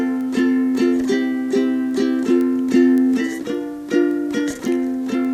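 Ukulele strumming the rhythm pattern for a song, brisk chords in a repeating syncopated pattern, bright and close, played alone.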